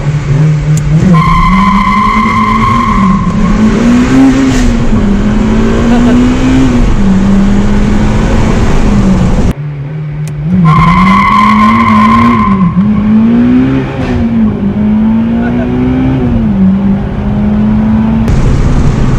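A stock Honda Civic Type R EP3 accelerates hard, its VTEC engine revving high with tyres spinning and squealing in two long bursts, loud and close, separated by a brief lift off the throttle, with no talk.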